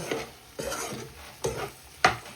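Mutton liver varuval being stirred in a pan on the stove, with four soft scraping strokes spaced across a quiet background and no talking.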